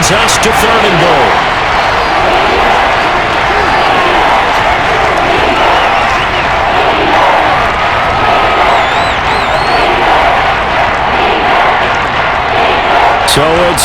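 Stadium crowd in the Madden NFL 23 video game during a Chicago Bears versus Kansas City Chiefs simulation on PS5, a dense, continuous roar of cheering that fills the whole stretch, loud and steady, with a commentator's voice over it.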